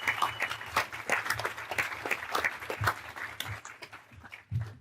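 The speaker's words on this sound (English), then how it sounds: "Just a round of applause for you and your staff." A modest audience at a public forum on the Moccasin Bend National Archeological District claps in an uneven patter of close, distinct hand claps that fades out after a few seconds.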